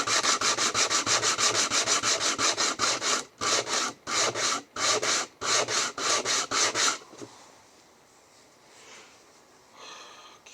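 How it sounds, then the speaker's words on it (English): Two wood pieces held together are sanded in fast, even back-and-forth strokes, a loud rasping rhythm that pauses briefly, resumes, then stops, leaving quiet room noise. "Okay, so now all we do this here is sand this down."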